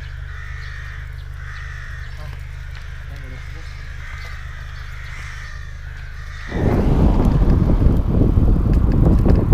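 Crows caw repeatedly in a mountain setting under steady wind and a low hum, then heavy wind noise buffets the microphone as a ride on an electric bicycle starts up.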